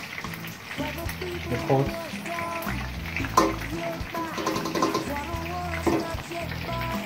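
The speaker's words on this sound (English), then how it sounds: "I have the pot to fry the minced vegetables, the sausage, the onion" Minced vegetables, sausage and onion fry in a pot with a steady sizzle, with stirring and clinking throughout while a person talks over it.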